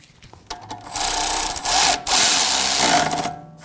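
A bolt being snugged down on the suspension of a 2006-2009 Audi S4 during bellow boot replacement, with a tool whirring and grinding in a few close bursts, the longest two near the end.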